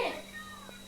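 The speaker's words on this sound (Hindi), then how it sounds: "बिल्ली भी है हमारी यहाँ पे, इसको दूध दे दिया" A house cat in a Himachal home gives a short, faint meow at the start, heard close by over quiet background hum.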